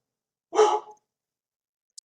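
A dog gives one short, loud bark-like burst close by indoors, followed by silence and a faint brief click.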